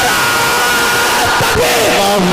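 A large crowd at a religious naat gathering (jalsa) loudly shouts a slogan together in a sustained, roaring collective cry.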